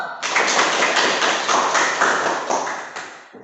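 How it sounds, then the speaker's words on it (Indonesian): Classroom audience applauding together after student questions, a dense steady patter of many hands clapping at close range for a few seconds, then fading. "Oke, aplaus dulu."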